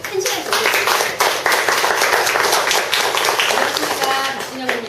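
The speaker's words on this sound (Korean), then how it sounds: "큰 박수 부탁드립니다." At a mentor introduction, a crowd claps steadily, a dense, lively round of applause that holds through the whole stretch before easing slightly at the end.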